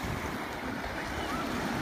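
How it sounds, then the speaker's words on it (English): Ocean waves surge against the sea wall beside the pier at Point Lonsdale, a continuous loud roar of surf with wind buffeting the microphone, no voices. "Notice how when the waves hit the wall,"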